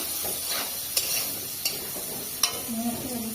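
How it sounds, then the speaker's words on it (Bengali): Potatoes fry in a pan with a soft steady sizzle, and a few sharp utensil scrapes and clicks come from stirring, with a faint voice near the end. "আলুটা একসঙ্গে একটু ভেজে নিই"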